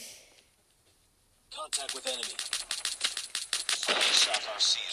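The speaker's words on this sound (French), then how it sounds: "je vais essayer de faire le dernier kill au pistolet, si c'est possible" Pistol gunfire in a video game rings out as a rapid series of sharp, close shots with metallic ringing, following a brief voice at the start.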